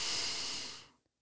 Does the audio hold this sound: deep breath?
yes